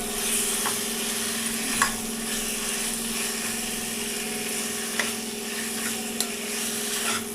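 Chicken pieces frying for a curry in a pan of oil that has browned, giving a steady, fairly loud sizzle with a low hum underneath and a few faint clicks from stirring.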